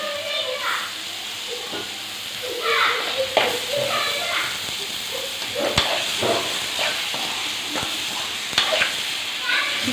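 Chicken pieces hit a pan of masala gravy while cooking a chicken gravy, giving a steady close sizzle and hiss with stirring scrapes and clatter throughout.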